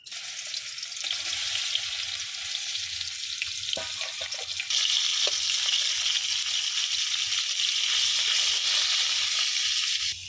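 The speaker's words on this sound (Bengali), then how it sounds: "এই যে মাছগুলো আমি হালকা করে ভাজা নিব" Steady sizzling of fish frying lightly in hot oil, a continuous crackling hiss that grows slightly louder partway through, with a few faint clinks.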